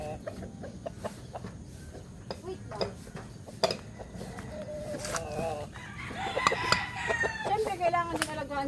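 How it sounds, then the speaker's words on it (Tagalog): An old rooster crows and hens cluck nearby over steady farmyard background noise, with a louder, harmonic burst of crowing toward the end. "nandito ako ngayon sa pinakamatandang manok na meron ako ngayon."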